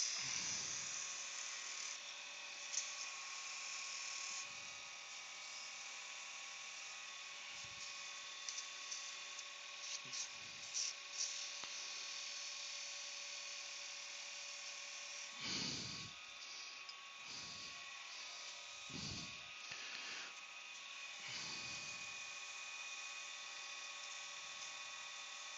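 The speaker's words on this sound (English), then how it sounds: "Just going to burn those lines." A wooden bud vase spins on a lathe while lines are burned into it, making a steady high-pitched whine with a constant motor drone. Occasional low thumps and brief friction bursts break the sustained tone.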